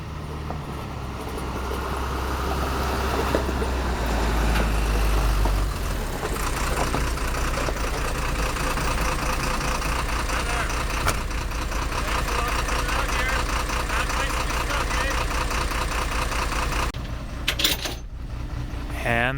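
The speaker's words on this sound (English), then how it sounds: "I hear the sound of a truck." A truck engine idles in the wilderness near Happy Camp, a steady low rumble with mechanical clatter running throughout at moderate distance, ending in a brief shift near the close, with no words spoken over it.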